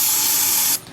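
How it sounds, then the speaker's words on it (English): Cleaner sprayed into a car's idle air control valve, a loud, close continuous aerosol hiss that cuts off abruptly near the end. "I'm gonna spray this in just a few more times"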